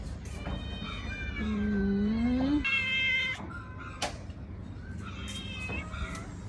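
Sick cats meow repeatedly at close range, with drawn-out, wavering cries and a few shorter calls over faint background noise.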